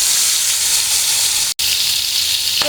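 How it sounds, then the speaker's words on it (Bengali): Pointed gourd pieces coated in salt, turmeric and spices fry in a wok with a loud, continuous close-up sizzle and hiss, broken by a brief dropout near the middle. "এই তো পটলগুলো ভেজে নিচ্ছি।"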